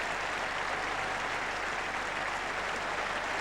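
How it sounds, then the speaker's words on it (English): A cricket crowd at the Oval applauds Geoffrey Boycott's half-century during an England v Australia Test in 1981, a steady, moderately distant ripple of clapping from the stands that runs evenly throughout. "Applause for Geoffrey Boycott, because Geoffrey Boycott has scored his half-century off 138 balls in 180 minutes"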